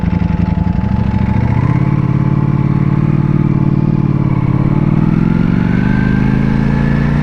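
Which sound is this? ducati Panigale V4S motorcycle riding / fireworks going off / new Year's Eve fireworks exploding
ducati Panigale V4S motorcycle riding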